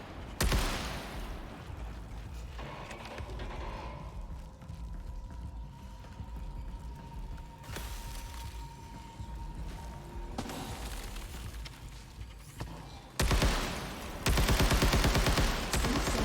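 Gunfire from Marathon: Vault Breaker, loud bursts and sustained rattling shots that start, pause and return, with a faint steady tone in between and a heavy burst of fire near the end.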